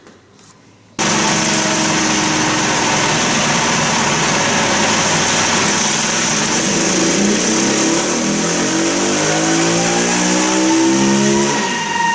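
A small engine fitted with a BSD40 carburetor revs hard on a test stand, starting abruptly after a quiet second and holding a loud, steady high-rpm roar with rising and falling harmonics toward the end.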